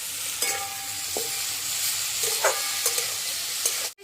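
Small mushroom pieces fry in a pan while a spatula stirs them, a low steady sizzle broken by several sharp scraping clicks and a final loud knock at the end.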